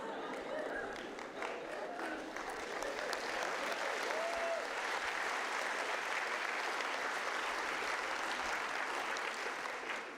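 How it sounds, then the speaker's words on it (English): An audience at a University of Waterloo convocation ceremony for the class of 2024 breaks into sustained applause in the middle of a speech, a dense and even roar of clapping that lasts the whole stretch. "Mid-speech applause, I never get that."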